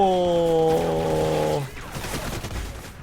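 Gunfire rings out in Call of Duty Ghosts: a sustained tonal game sound breaks off into a rapid burst of sharp shots and crackling impacts, all fairly loud and close.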